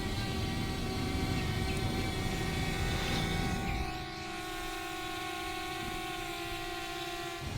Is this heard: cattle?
no